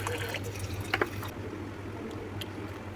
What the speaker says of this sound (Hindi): तो अब बस इसमें पानी डाल दूँगी